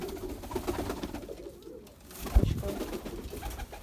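Low, soft cooing of pigeons, dolapçı breed, in a couple of short bursts over quiet background noise, fairly close, with a brief thump midway.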